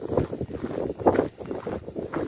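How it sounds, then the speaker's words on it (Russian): Cold winter wind blows outdoors after a snowfall, a steady, uneven rumble buffeting the microphone with gusty swells throughout. "Ветер такой опять сегодня дует, холодный."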